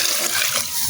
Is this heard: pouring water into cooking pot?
yes